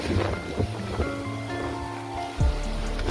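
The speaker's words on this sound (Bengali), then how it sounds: "দেখো কীরকম ঝড় হচ্ছে" A rooftop storm in the late afternoon: strong wind roars steadily and close, with rain and broad rushing noise throughout and a few louder gusts and thumps, no talking.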